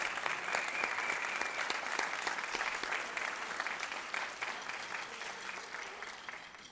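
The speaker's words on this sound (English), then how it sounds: "Let's have a round of applause for these parents that have volunteered their time." An audience at an annual concert applauds volunteering parents: dense, sustained clapping from a crowd, fairly distant and slowly fading toward the end, with no talk over it.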